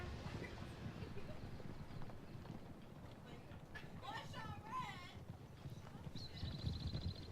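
Carbine cavalry horses gallop in a Shogun 2: Total War online battle, with steady hoof clip-clop and a brief whinny over dense battlefield din, while someone talks throughout.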